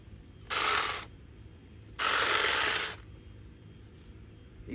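A SAKER 20 volt cordless trimmer cutting zinnias gives two short whirring bursts, the second longer, with quiet pauses between them.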